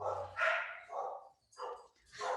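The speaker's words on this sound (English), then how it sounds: "Sorry for the dogs." Dogs bark a few times nearby while a truck comes up the driveway, several short loud barks and yips with brief gaps between them.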